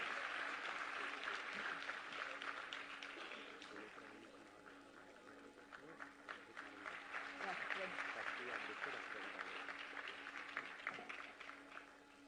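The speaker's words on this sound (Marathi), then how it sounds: "जोरदार टाळ्या होऊन जाऊ देत." An audience applauds at a Women's Day ceremony, with steady clapping that fades a little midway and then swells again, while voices are heard over it.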